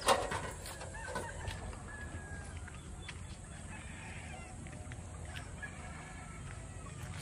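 Chickens clucking softly through steady outdoor background noise on a small farm, close by and continuous, after a sharp burst at the start; no one speaks.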